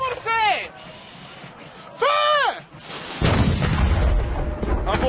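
Cannon fire at a Napoleonic reenactment: shouted voices come first, then a loud booming blast with a long, rough rumble that carries to the end.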